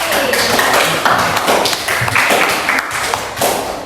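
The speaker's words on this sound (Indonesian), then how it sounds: "beri tepuk tangan untuk Cindy." Classroom applause, a dense patter of many hands clapping together at close range that swells and fades slightly over a few seconds, with no one speaking.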